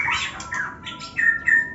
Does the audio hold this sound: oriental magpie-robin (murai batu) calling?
yes